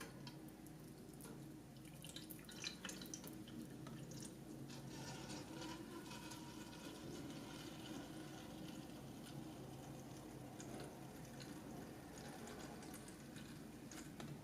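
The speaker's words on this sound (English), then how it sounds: "I'm gonna go ahead and pour in vegetable oil." Vegetable oil pours steadily into an electric deep fryer with a soft, continuous trickle and occasional drips, quiet and close, with no talking.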